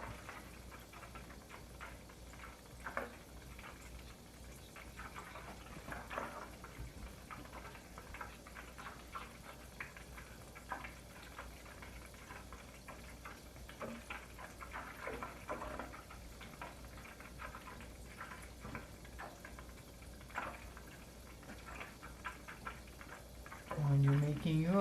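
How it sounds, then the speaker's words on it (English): Clarified butter bubbles gently in a pan during ghee-making, a faint, continuous crackle of small pops and sizzles with occasional louder bursts, close up and undisturbed by talk. "Right now those milk solids are still about a half inch under the surface of the clarified butter that's bubbling on top."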